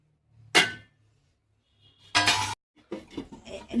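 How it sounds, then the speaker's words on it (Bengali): Metal lid lifted off a cooking pot of pea-based dhoka curry, giving two sharp clanking knocks about a second and a half apart, followed by softer rattling handling sounds in a quiet kitchen. "ঢাকনাটা খুলে দেখছি।"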